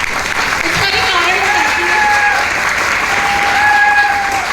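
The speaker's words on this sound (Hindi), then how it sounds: "मेरे बेटर हाफ सिद्धार्थ सिंह, उनके लिए एक जोरदार तालियां" An audience bursts into loud, sustained applause at a Vestige business event, clapping steadily with no break for several seconds.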